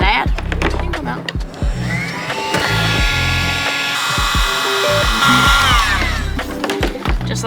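A heat gun blows with a steady, loud whooshing hiss for several seconds while shrinking heat-shrink tubing over bungee cord on a fishing kayak, with background music and some handling clatter around it.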